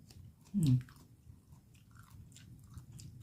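Sticky rice with seasoned baked pork being chewed, one loud close crunchy bite followed by soft, quiet mastication.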